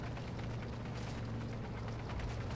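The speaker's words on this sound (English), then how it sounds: "Turrets are traversing." Tank turrets traversing in the Combat Mission: Battle for Normandy game, heard as a steady mechanical grinding whir with a low motor hum and faint ratcheting clicks, continuous and even throughout.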